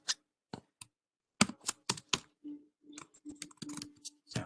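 Computer keyboard typing in bursts of quick clicks with short pauses, close and fairly faint, with no talking, during a programming lecture in PyCharm.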